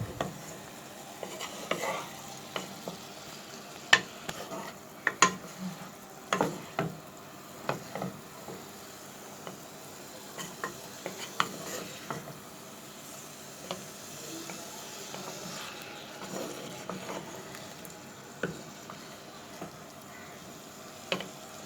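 Chicken frying in a pan while being stirred, with a soft sizzle under irregular metal scrapes and clinks of a spoon against the pan, close by and intermittent.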